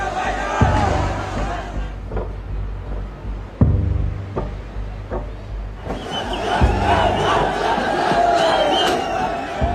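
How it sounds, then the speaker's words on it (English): Large crowd of protesters surging into Nepal's Supreme Court, a loud, roaring mass of shouting voices with sudden thuds and bangs, swelling into a dense, sustained din in the second half. "Crowds breach the Supreme Court"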